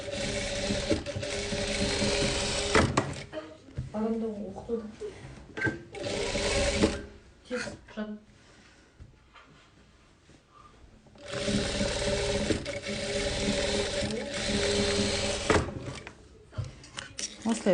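A sewing machine stitches down the middle of fabric pieces for patchwork, whirring in close, loud bursts at the start and end, with a quieter pause and some talk between runs.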